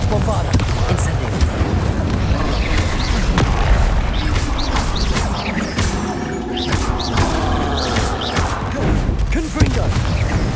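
Explosive spells in Hogwarts Legacy, Confringo and Bombarda, going off in a continuous stream of booms and fiery bursts. The blasts come loud and close, layered over battle noise with no clear gaps between them.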